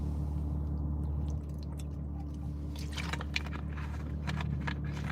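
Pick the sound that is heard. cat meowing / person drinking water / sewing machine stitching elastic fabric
person drinking water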